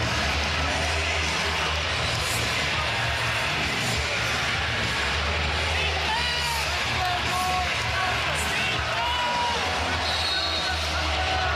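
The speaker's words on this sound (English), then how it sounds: "This capacity crowd on its feet." A capacity crowd in a college basketball arena, Tennessee hosting Vanderbilt, roars and yells steadily in a dense, loud wall of cheering with a commentator's voice over it.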